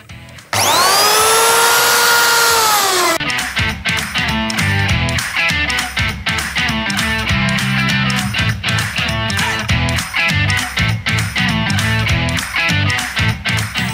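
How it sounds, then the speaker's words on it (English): A router on a sled flattening a slab of ironbark, Australia's hardest wood, with a new Torquata bit: a sharp whine rises at the start, then a loud, steady, grinding cut continues close up for the rest. "I'm gonna put that into my router sled and then we flatten it off"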